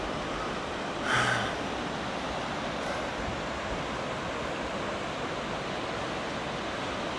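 Steady broadband rush of river water flows continuously at a California gold prospecting site, with a brief gust or bump near the start.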